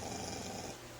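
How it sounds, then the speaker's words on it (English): A dog growls low and steadily for about a second, a soft rumbling sound that is faint and fairly close, with no talking over it. "That's my dog growling."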